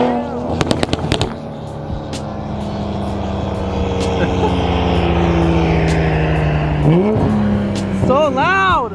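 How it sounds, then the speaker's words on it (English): Loud modified Nissan 350Z engine and exhaust running close up, a steady low drone with a sharp revving swell near the end, while people talk and exclaim over it. "how loud Gustavo's car is"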